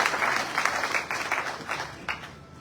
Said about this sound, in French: ovation que nous allons renouveler